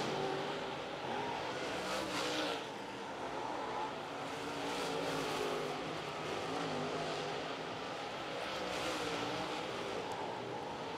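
Steel block late model race cars circle a speedway in a heat race, their engines roaring in a steady loud drone that swells and fades as the pack passes, from a middle distance.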